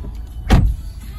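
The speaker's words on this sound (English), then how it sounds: "It's got electric front windows," The electric front window of a 2017 Ford Fiesta 1.6 ST-2 runs with a brief, close motor whir lasting a fraction of a second inside the quiet car.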